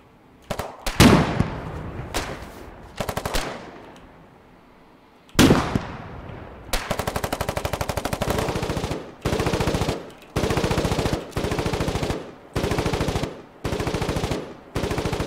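Machine gun fire in the war game Foxhole, from a distant emplacement: several bursts of rapid shots, loud and close, some short and others running a second or more, with pauses and fading echoes between them.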